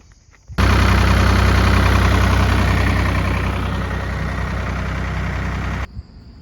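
A tractor engine starts and idles loudly and close by, a steady heavy rumble lasting several seconds on a summer morning before it cuts off.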